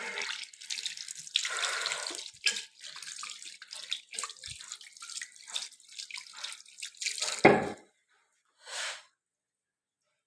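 Tap water runs into a kitchen sink in steady rushing bursts while hands are washed, with brief pauses and a few drips, then a short final splash after a silence.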